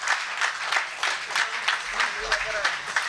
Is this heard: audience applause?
yes